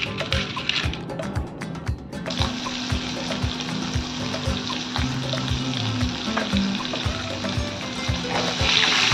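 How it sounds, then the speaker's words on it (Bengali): Fish frying in oil in a kadai, a dense, loud sizzle with rapid crackling and repeated clinks and knocks, heard close up with no talking. "কড়াতে তেল বসিয়েছি, এবার মাছটা ভাজবো।"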